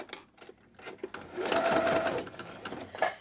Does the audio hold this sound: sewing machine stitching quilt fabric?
yes